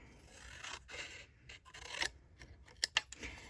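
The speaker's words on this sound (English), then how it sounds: "I'm going to cut it just a little bit" Scissors cutting paper card for a handmade Stampin' Up! double-fold card, quiet close snipping and slicing with a few sharper clicks of the blades near the end.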